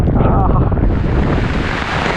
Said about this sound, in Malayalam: ഇപ്പോഴും നല്ല മഴ പെയ്യുന്നുണ്ട്